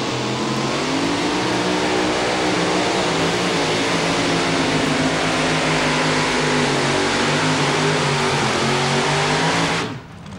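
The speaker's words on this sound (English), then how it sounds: "It's a 1937 Chevrolet body, 526 cubic inch Chevrolet engine." A 1937 Chevrolet-bodied two-wheel-drive pulling truck with a 526 cubic inch Chevrolet engine roars at a truck pull in Georgetown, Ohio. The engine note is loud and sustained at full throttle for about ten seconds, then cuts off abruptly.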